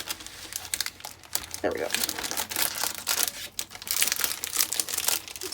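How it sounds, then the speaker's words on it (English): Crinkly craft-haul packaging is pulled open, with bursts of plastic crackling and rustling close by, while someone talks briefly over the handling. "this packaging is going to fight me"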